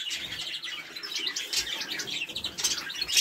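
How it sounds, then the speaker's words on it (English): Canaries chirp and tweet continuously inside a cage, a busy stream of bright, close calls with overlapping notes and no voices. "Here we've got one of our canaries."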